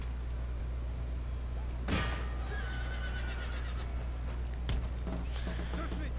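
In a war strategy video game with cavalry units, a horse whinnies in a brief rising neigh over a steady low battle rumble, followed later by a short thump.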